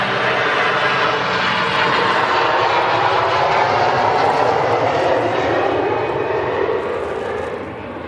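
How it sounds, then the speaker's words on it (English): A Virgin Airbus A330 thunders down the runway on takeoff at Manchester Airport, a loud, continuous jet-engine roar with broad rumbling power that holds steady before easing slightly at the end. "Now that was a proper 330 takeoff."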